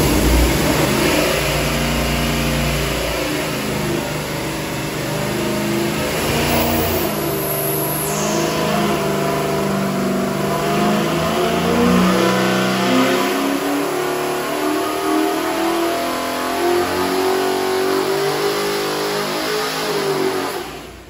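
A 406 cubic inch small block Chevy V8 runs a sustained full-throttle pull on an engine dyno, a loud, steady roar climbing in pitch for about twenty seconds with no talk over it.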